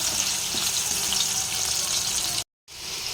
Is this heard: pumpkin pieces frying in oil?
yes